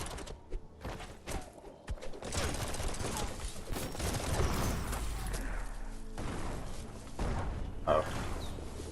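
Turret fire in the video game Biomutant: a busy, clattering stretch of rapid shots and mechanical noise at moderate level, mixed with other game sounds.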